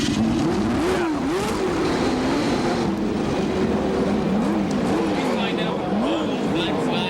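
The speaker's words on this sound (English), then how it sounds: "Drivers, start your engines." Indy cars in a 1993 CART race at Portland start up and rev, their engines rising and falling in pitch in repeated swells under steady track noise while a commentator talks over them.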